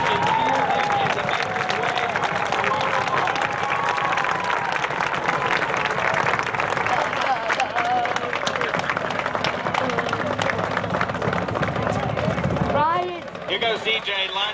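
A crowd at a Special Olympics opening cheers and applauds as a high-school runner carries the Olympic flame around the track. Loud, continuous clapping and voices fill the space, then ease off near the end.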